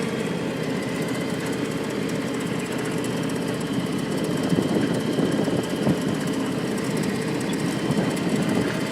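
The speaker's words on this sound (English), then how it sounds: "Tractor's got to warm up a little bit yet" A John Deere X724 lawn tractor engine runs continuously while warming up outdoors, giving a steady, rough mechanical drone with no pauses or talk.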